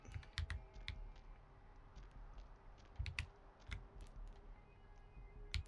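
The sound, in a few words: computer keyboard typing and clicking during PC gaming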